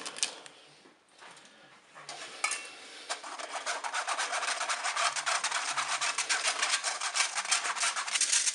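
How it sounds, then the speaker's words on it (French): Flour and baking powder are sifted through a mesh sieve over a bowl for a coconut cake. The sound is a close, steady raspy rubbing that starts faintly, then builds into a continuous rhythmic scratching that lasts to the end. "je vais tamiser ma farine"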